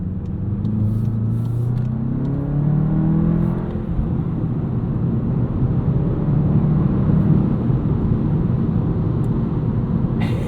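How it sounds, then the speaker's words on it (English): Tire and road surface roar from a 2025 Volkswagen Jetta GLI with a 2-liter engine and manual gearbox, heard from the cabin while driving in the city: a steady broadband rumble with a faint engine whir rising and falling underneath, no voices. "you can't really hear that 2-liter too much. In fact, this road surface is louder than the engine."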